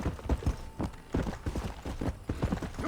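Horse hooves clip-clop in quick, uneven beats during a ride, close and moderately loud over a steady background, with no talk in between.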